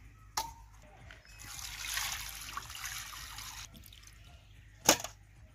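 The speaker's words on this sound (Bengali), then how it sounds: "মাছটা এবার আমি ধুয়ে নেব।" Water trickles and splashes in short bursts while rohu fish is rinsed in a kitchen, faint and close, with a couple of sharp knocks.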